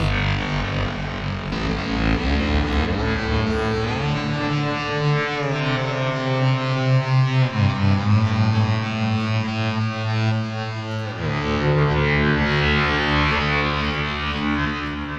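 A thick, distorted hybrid synthesizer tone from the Ethera Gold software synth drones with layered harmonics, its pitch bending and shifting as the sound morphs, loud and continuous throughout.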